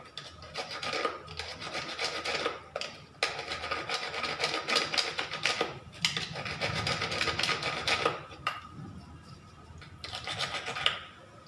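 A saw blade scrapes a battery terminal in long, gritty rasping strokes, repeated steadily with short pauses between bursts, close up and alone.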